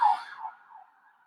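A siren passes outside, heard as a short, fading wail that starts loud and trails off within about a second.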